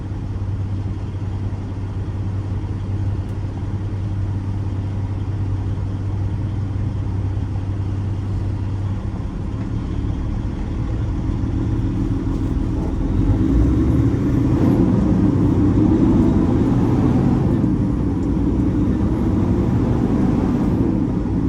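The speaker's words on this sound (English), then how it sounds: "Problem with this truck is it takes a while to get going" A semi truck engine drones steadily while driving on US 41 on a sunny day, with a constant low rumble that swells louder toward the end as it labors to build speed.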